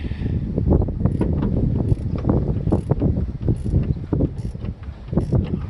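Rhythmic mechanical clicking and ratcheting from a junkyard 1976 Cadillac Eldorado part being cranked open by hand, with repeated clacks about every three-quarters of a second over a low rumbling grind, close up and without talk.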